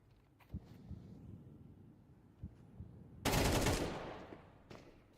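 Gunfire in a Counter-Strike esports match: scattered single shots, then a loud, dense burst of automatic fire that tails off, followed by a few more distant shots.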